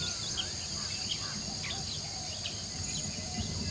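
Jungle insects chirping on the forest floor, a faint, steady high-pitched buzzing drone with scattered brief chirps, quiet and even throughout.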